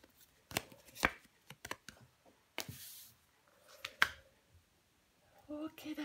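Tarot cards are flipped and laid down on a table, a handful of sharp, close snaps and slaps spaced irregularly, with someone speaking French between them.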